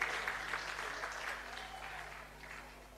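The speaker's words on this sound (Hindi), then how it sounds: "एक बार जोरदार तालियों से स्वागत हो जाए।" An audience claps to welcome guests onto a stage, with moderate, fairly faint applause that starts strongest and slowly tapers over a constant low electrical hum.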